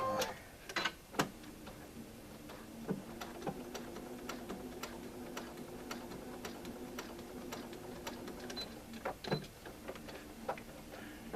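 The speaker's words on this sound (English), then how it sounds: "And I sew right along the line." Sewing machine stitching quilt fabric along a marked line, a steady mechanical whir with a regular fast ticking of the needle, close and fairly quiet, with a few sharper clicks at start and near the end.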